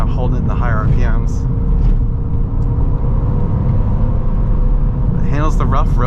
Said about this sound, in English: These old inline sixes sound wonderful, even though it's not very loud.